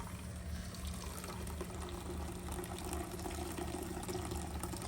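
Homemade coconut milk pours in a steady, continuous liquid stream, a close, even trickling and splashing that holds without pause and with no talking.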